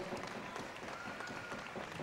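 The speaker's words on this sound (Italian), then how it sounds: "Un grandissimo applauso agli amici di Porta Romana" Crowd applauding a Porta Romana district group at the Quintana di Ascoli historical pageant, with steady, dense clapping filling the whole moment at a moderate distance.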